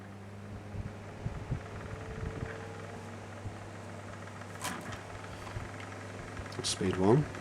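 A Japanese oscillating desk fan turning on its slow speed setting gives a steady, low electrical hum with faint intermittent knocks and rattles over it, moderately quiet throughout.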